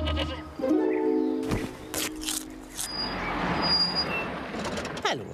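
A hungry goat bleats in a cartoon village setting, a wavering cry rising over vehicle noise and a hissing air-brake-like release, moderately close.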